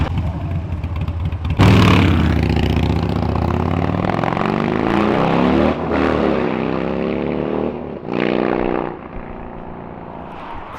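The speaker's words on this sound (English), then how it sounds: "my buddy Chris just pulls up on this sick ass motorcycle" A motorcycle engine growls and revs as the bike rolls up close, with a loud throttle burst early on, a sustained rising and falling drone, and a second sharp rev near the end.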